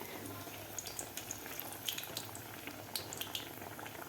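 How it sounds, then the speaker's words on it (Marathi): Potato vadas deep frying in oil, heard as a faint, low bubbling sizzle broken by sparse, sharp little pops and crackles, close and quiet with no voices. "आता आपल्याला दोन्ही पण व्यवस्थित असा थोडासा गोल्डन कलर होईपर्यंत हे तळून घ्यायचे आहेत वडे"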